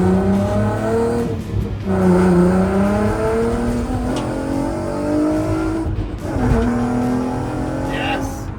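A VW Caddy R drives along with its engine rising and falling through gear changes, a loud, continuous revving drone heard from inside the vehicle, with occasional talking over it.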